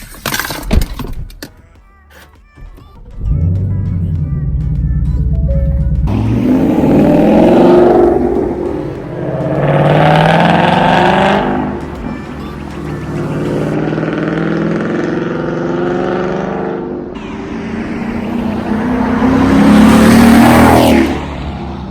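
A car fitted with inexpensive Raceland coilovers pulls away and accelerates, its engine climbing in pitch through several rising revs before easing off, heard close from inside with no talking.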